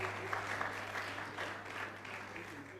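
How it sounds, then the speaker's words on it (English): An audience claps steadily and faintly at a physiotherapy induction ceremony for a graduating class, with a low steady hum running underneath. "Please clap."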